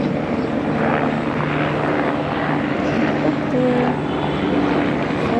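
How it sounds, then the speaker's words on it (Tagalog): A helicopter passing back and forth over a mountain farm area with fields, a steady, fairly distant droning engine throughout, with faint voices in the background. "Yung helicopter kanina pa yung pabalik-balik."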